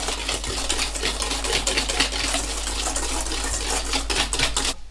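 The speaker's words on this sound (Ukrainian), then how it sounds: "І знову збиваю вінчиком" Sour cream and baking soda being beaten with a wire whisk in a bowl: a fast, steady, close clicking and rattling that runs continuously and stops abruptly at the end. No voices.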